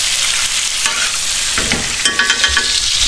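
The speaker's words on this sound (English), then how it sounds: "You can kind of see that butter getting nice and brown." New York strip steak frying in browning butter with garlic, a loud continuous sizzle and crackle with stirring and spoon scrapes in the pan, no voices.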